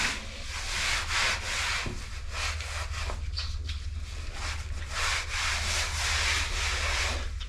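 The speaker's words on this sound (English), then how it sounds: "I'm gonna go ahead and rub this whole thing down" Fresh single-component grout on tile is rubbed down with steady, continuous scrubbing strokes, a close and fairly loud abrasive rasp that carries on without pause and without talk.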